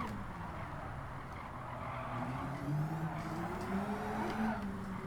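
A Skoda VGT race car in Gran Turismo at Tsukuba drones along at moderate volume, engine tone wavering and rising as the throttle comes back on, with tire squeal sliding over it through the corner.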